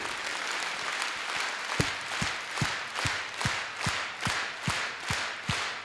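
Audience applause for soldiers at war, a moderate crowd clapping in a steady rhythmic unison beat, with sharp regular claps repeating about twice a second throughout.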